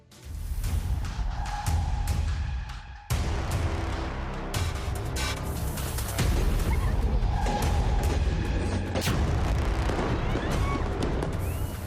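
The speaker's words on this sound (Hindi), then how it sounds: "तनातन फायरिंग और धमाके" Sharp gunshots and heavy blasts ring out during street protests against the coup in Yangon, Myanmar, loud and repeated over a rumbling, chaotic background.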